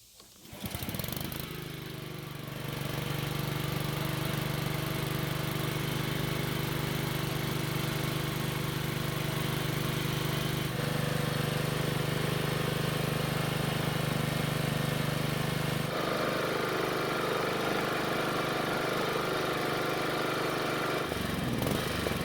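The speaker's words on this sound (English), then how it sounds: "which means we should have no problems starting this engine" A Honda lawn mower engine catches after a brief start and settles into a loud, steady running drone, holding its pitch for about twenty seconds before cutting out near the end.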